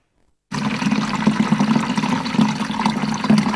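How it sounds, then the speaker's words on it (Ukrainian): Spring water gushes steadily into a metal can at an outdoor spring, a loud, continuous splashing pour that starts abruptly and runs without pause. "Не в один такий бідон потрапляє кришталева водиця."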